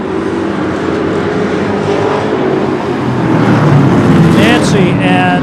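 Super short track race cars roar around a small oval in Newport, New Hampshire, engines droning loud and steady as a pack of five charges past, pitch rising and sweeping as they accelerate near the end amid announcer and track ambience.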